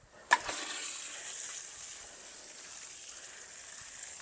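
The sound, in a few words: watering in a newly planted Japanese maple tree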